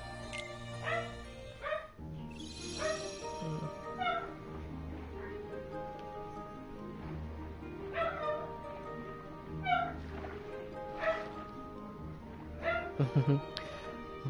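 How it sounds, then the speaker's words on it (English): A pet dog barks and whimpers at home in a few short yelps and whines, mixed into continuous video-game music and someone talking over it. "That's my dog."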